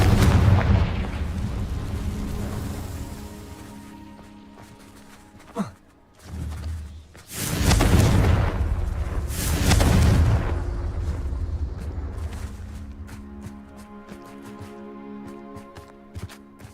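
A Confringo fire spell in Hogwarts Legacy bursts with heavy booming explosions, one sharp blast followed by two long rumbling detonations, then fading debris crackle, loud and close with no talk.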